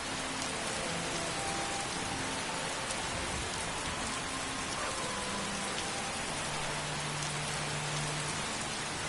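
Steady rainfall in the video game Skyrim, an even, dense patter of drops hissing across surfaces without pause, moderately loud and unbroken by voices.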